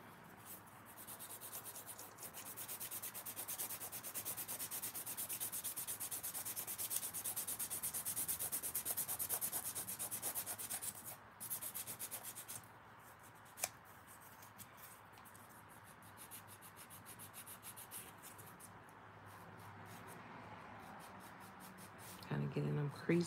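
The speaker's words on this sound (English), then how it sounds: "Do the same thing, just filing on top." Acrylic nails being filed by hand on top, a steady dry rubbing and sanding scrape that runs continuously up close, easing off partway through, with brief handling noises near the end.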